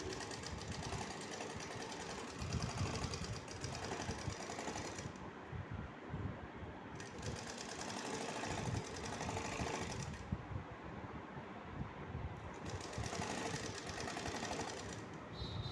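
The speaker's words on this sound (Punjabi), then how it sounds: "ਤੇ ਇਹ ਬਹੁਤ ਹੌਲੀ ਸਿਲਾਈ ਲਗਾਉਣੀ ਆ ਤਾਂ ਕਿ ਆਪਣੀ ਬਰਾਬਰ ਸਿਲਾਈ ਰਹੇ" Sewing machine stitching slowly and evenly along the folded edge of fabric to make a fine cord, a steady continuous mechanical whir close up with brief pauses, no voices.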